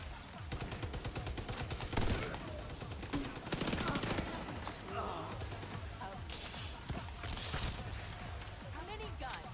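Gunfire in The Division 2, fast repeated shots in close bursts over a busy background of game sounds and impacts, moderately loud and continuous through the stretch.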